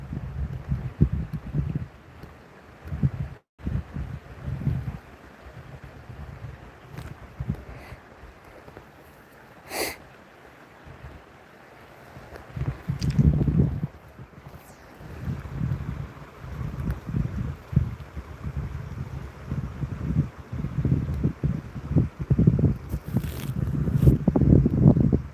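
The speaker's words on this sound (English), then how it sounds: "Freaking wind." Gusty wind buffets the microphone outdoors beside a fly-fishing stream, with uneven low rumbling bursts that swell and fade over the whole stretch.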